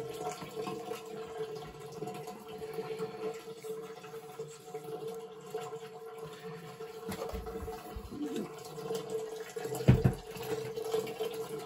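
Water drains steadily from an electric water heater being replaced. The flow makes a faint, continuous trickle and gurgle, with a few soft knocks near the end and no speech.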